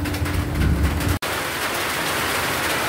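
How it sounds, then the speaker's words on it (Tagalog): Steady rain pouring down outdoors during a rainy spell, a dense even hiss close by with a brief dropout partway through, no voices. "At bumalik na naman ang ulan."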